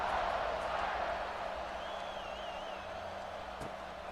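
Stadium crowd in College Football 26 during a kickoff, a steady broadband roar of cheering that fades slightly, with a faint whistle-like tone in the middle and a brief thump near the end.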